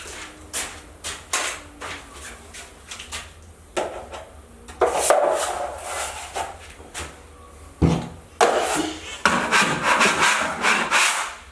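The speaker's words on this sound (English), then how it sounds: "that's how you cut off the anchor" A drywall anchor is cut out of a wall with irregular bursts of scraping, sawing and rubbing that intensify in the second half, close up and fairly loud, with no voices.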